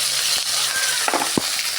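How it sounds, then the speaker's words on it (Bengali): Tomato paste dropped into frying ginger paste in a pan, giving a soft steady sizzle with a few stirring scrapes and a brief louder hiss near the end. "আদা বাটাটা ভাজা ভাজা হয়ে এসছে, এবার আমি টমেটো পেস্টটা দিয়ে দেবো"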